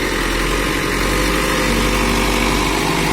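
A loader tractor with a two-metre, 1.1 cubic metre bucket and fully reworked hydraulics idles loudly and steadily nearby, a constant low mechanical rumble with an even hum and no voices.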